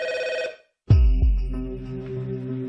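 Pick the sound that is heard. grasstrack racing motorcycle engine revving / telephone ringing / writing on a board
telephone ringing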